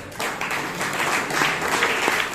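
Toastmasters meeting attendees in Bangalore applaud a certificate recipient, a moderate room of people clapping steadily and fairly close, with no talking over it.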